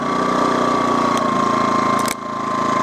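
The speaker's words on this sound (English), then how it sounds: "then the revs drop off slightly because it's just sort of ticking over mode now." An Impax IM1900SIG portable generator engine hums steadily in economy mode, its pitch sagging slightly as the revs drop to idle after the load is unplugged, with a brief click near the end.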